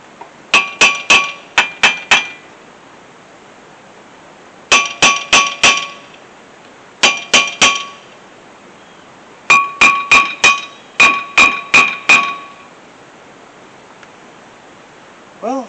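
Sharp metallic hammer strikes on a seized brake part of a 2003 Mazda, landing in quick bursts of three to five blows separated by pauses, close and loud with a bright ringing clang.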